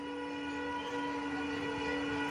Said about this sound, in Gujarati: સામે એક ગાડી આવી રહી છે ટ્રેન